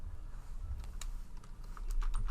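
Typing on a computer keyboard, quiet irregular key clicks in short bursts over a soft background hum, close and alone.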